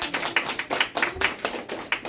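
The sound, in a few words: round of applause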